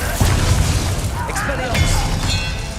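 Glacius ice spell cast in Hogwarts Legacy, a sharp booming crack followed by brittle shattering and icy tinkling, loud and close, with a voice speaking over it.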